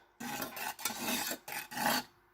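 Rhythmic scraping and clinking of a spoon stirring rosehip tea in a cup, in three or four quick bursts separated by brief pauses, close and fairly quiet.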